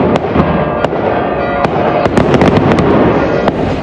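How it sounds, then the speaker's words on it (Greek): Fireworks crack and burst repeatedly in irregular bursts over Lamia, Greece, on Easter night, sharp bangs over a continuous crackling roar, loud and fairly close, with no talking. "Εντυπωσιακά πυροτεχνήματα φώτισαν το βράδυ της Ανάστασης και τον ουρανό της Λαμίας."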